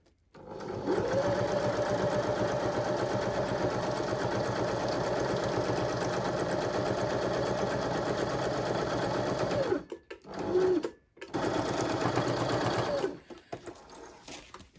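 Domestic sewing machine running a long stitch on a beeswax wrap bag, a steady close mechanical whirr for about nine seconds, then short stop-start bursts and another steady run.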